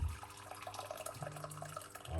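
Water poured from a cup into a pot, a short close splashing and trickling stream with fluctuating gurgles, heard alone.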